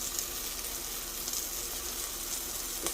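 Cherry tomatoes with dry parsley sautéing in a pot, a soft steady hiss of gentle frying, fairly faint and continuous with no voices.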